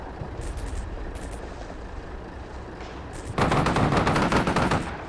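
Machine gun fire in the Combat Mission: Shockforce 2 war game: short distant bursts at first, then a loud, sustained rapid rattle of automatic fire near the end.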